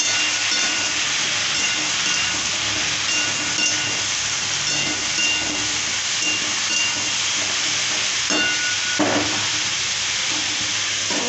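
Bottle gourd, tomato, beans and green chillies fry in a pan with a steady soft sizzle and hiss, plus occasional stirring scrapes, alone and close.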